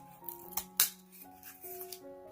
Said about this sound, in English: So I'm just going to cut this out now.